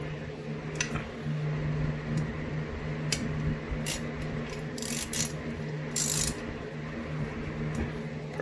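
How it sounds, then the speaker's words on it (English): A hand ratchet clicks in quick bursts as size 12 nuts are tightened onto a Honda K20 engine during assembly, over a low background hum. "Screw them down, and then we'll secure them."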